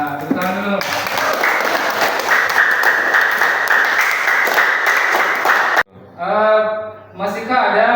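A classroom of people claps together in a sustained burst of applause for several seconds, then voices follow as the clapping stops.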